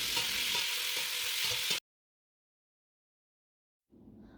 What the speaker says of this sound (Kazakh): Қызып тұрған майға осындай ұзынша етіп туралған етті салып, суы тартылғанша қуырып аламыз.